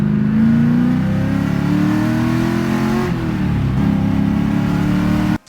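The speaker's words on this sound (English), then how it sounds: "I recently just swapped in this LS1 and very recently got it running and driving for the first time." A BMW E36 with a swapped-in LS1 V8 idles and revs loudly up close, its deep harmonic drone rising and falling steadily before cutting off at the end.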